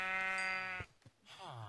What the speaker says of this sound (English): Oh, we got some sheep.